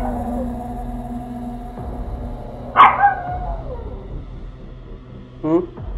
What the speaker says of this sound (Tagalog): Naalarma ang aso at kinahulan pabalik ang pader.